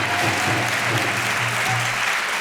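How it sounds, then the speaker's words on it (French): Dense, steady applause from an audience at a political campaign meeting for municipal elections, a continuous wash of clapping holding level and loud for the whole stretch with no voices over it. "je vous demande du coup un tonnerre d'applaudissements"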